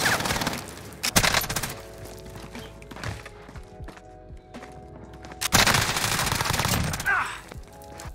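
Sustained bursts of MG82 machine gun fire in Warzone, rapid and loud with heavier volleys near the start and again after a lull, mixed with other in-game shots and sounds.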